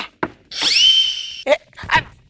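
A man in a Telugu comedy skit imitates a dog, giving a drawn-out whining howl between short, sharp yelps, loud and close.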